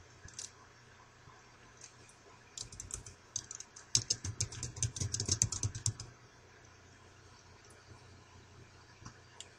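Someone edits a Word 2007 document on a computer keyboard with quiet, close key clicks. The sparse early taps give way to a dense burst of rapid typing and delete-key presses in the middle, then the keys fall quiet again.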